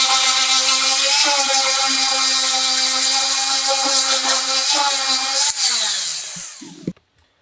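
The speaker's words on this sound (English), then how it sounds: "use your sander again and just knock down these rough edges and knock off the lines as well" An electric sander running steadily against rough pocket-hole edges of a wooden key rack with 220 grit sandpaper, a loud sustained whine with slight pitch wobbles before winding down and stopping near the end.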